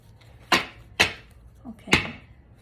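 Playing cards being shuffled by hand, heard as three crisp, fairly close riffling bursts spaced about half a second apart, with a faint softer rustle between the last two.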